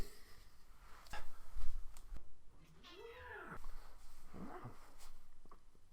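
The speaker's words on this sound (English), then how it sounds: "There's a cat scratching on my door" A cat meows a few times close by from behind a door, with faint thumps and scratchy bumps between the drawn-out calls in an otherwise quiet room.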